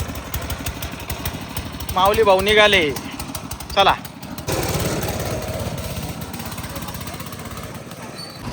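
A tractor engine chugging steadily throughout, a low rhythmic rumble that carries under a man's speech and grows louder in the second half.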